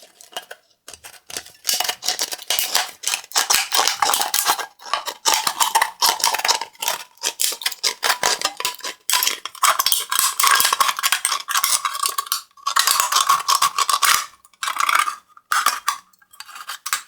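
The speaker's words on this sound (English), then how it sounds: "Another good option is an aluminum can from soda or beer. Cut out a piece of suitable size." Small Swiss Army knife scissors snip through a thin aluminum soda can, producing loud, crisp, metallic crunching cuts in rapid irregular bursts with brief pauses, up close.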